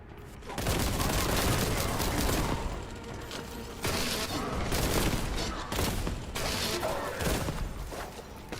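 Dense, continuous gunfire from the Warhammer 40,000: Boltgun video game, a loud barrage of rapid overlapping shots and blasts with no letup, broken only by a couple of very brief dips.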